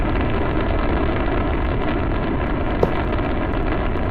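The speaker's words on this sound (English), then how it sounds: "Jet blast back to Earth." A rocket jet blast roars in a video game launch from Mars, a loud, dense, unbroken rumble that holds steady throughout, with one brief click near the end.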